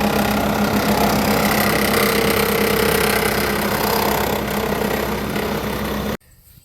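A hydraulic motor belted to a forage chopper, spinning the knife drum backward on a farm, a steady loud mechanical drone with a constant hum that cuts off abruptly near the end.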